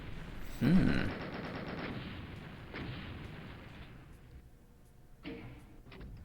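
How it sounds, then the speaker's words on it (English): A rocket launcher fires in Doom II, with heavy booming blasts and a rumbling explosion, followed by a second, fainter blast, all within continuous game noise. "So you can get a secret rocket launcher in the first level of Doom 2."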